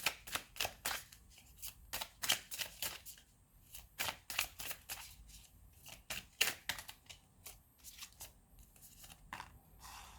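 Love oracle cards being shuffled by hand, a rapid series of crisp papery riffles and flicks in close, uneven bursts that repeat throughout with brief pauses, without any talking.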